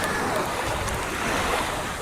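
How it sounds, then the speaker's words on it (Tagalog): Ocean waves wash steadily onto a sandy shore in a broad, continuous surf roar, with wind rushing across the microphone and no voices. "Kag makita ko man ang pagdapyas ang balod."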